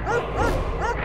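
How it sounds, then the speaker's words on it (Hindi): A dog yips and barks in short, muffled bursts that seem to come from inside a freezer, three quick calls over a low steady hum. "ये फ्रीजर क्यों भौंक रहा है?"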